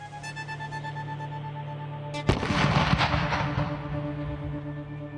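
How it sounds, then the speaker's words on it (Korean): A TNT charge detonates with one sudden sharp blast, followed by a sustained rumbling roar that slowly fades, preceded by a steady background tone. "기체는 강력한 폭발과 함께 외부로 팽창합니다."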